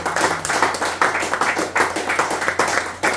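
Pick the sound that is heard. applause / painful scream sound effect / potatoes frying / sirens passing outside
applause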